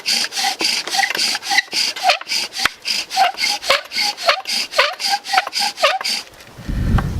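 Wooden spindle rubbed back and forth in a friction fire-lighting attempt, a steady rhythmic scraping with about twenty close, loud strokes that stop near the end.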